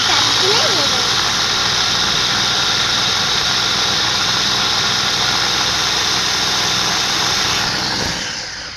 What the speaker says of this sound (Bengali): ক্লোজ করে দাও এ ব্লেন্ড করব ব্লেন্ড করা হয়েছে